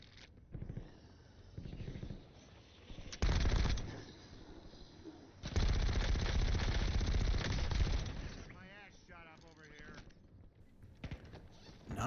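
Gunfire in Call of Duty Warzone, loud bursts at irregular moments mixed with game effects and sustained combat noise, with stretches of quieter ambience between the volleys.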